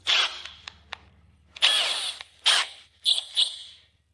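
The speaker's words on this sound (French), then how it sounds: "puis en mode vissage sur votre perceuse, vous appuyez" Cordless drill set to screw mode, running in several short bursts to tighten its chuck around a drill bit, close and fairly loud, with brief whirring spurts separated by pauses.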